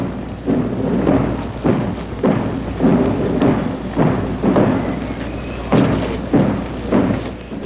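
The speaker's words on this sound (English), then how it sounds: "The sound of the muffled drums sweeps in melancholy waves over the hushed throng" Muffled drum beats at John F. Kennedy's funeral thud in slow, steady waves, each stroke soft and heavy, repeating at a measured funeral pace over a low background rumble.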